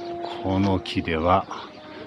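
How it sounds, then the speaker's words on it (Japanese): Pigeons feeding on flowers in a tree in Retiro Park, Madrid, give a few soft, close, throaty coos in quick succession against quiet outdoor background. "鳩がせっせと花を食べてます。"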